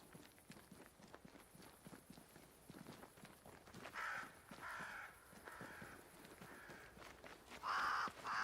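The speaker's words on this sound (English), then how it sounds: "Crows. They flock to that great tree up there." Crows caw in bursts toward the end, moderately close, over a faint backdrop of footsteps and ambience in the video game Banishers: Ghosts of New Eden.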